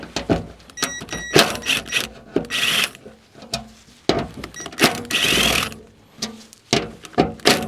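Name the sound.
ratchet unbolting fuel tank collar on UAZ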